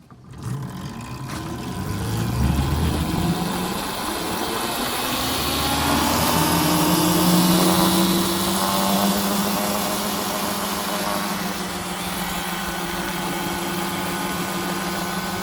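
Extremely fast minibike engine running loud and close, revving up into a rising whine that holds high for several seconds and then settles back to a steady buzzing drone, with no talk over it.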